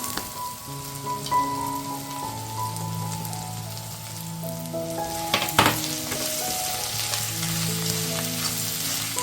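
Sliced onions frying in a pan for a beef roast, a dense steady sizzle up close with faint background music tones and a brief louder clatter midway as they are stirred.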